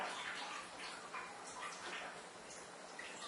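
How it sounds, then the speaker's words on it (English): Water from thawed frozen tomatoes draining away, a soft, continuous trickling and splashing, close and faint, with no talk over it. "Get it mostly drained off, and you're just going to have the chunks of the tomato left"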